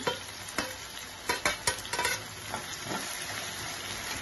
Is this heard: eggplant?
yes